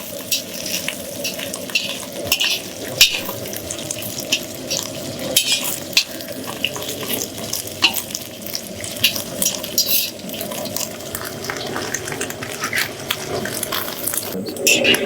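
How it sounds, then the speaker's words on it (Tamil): Butter melts down into ghee in a pan, giving a steady, moderately loud sizzle and bubbling throughout, with occasional stirring clinks of a utensil against the pot. "உருகிட்டே இருக்கும்போது பாத்தீங்கன்னாக்க நெய் பிரிஞ்சு வந்துடும்."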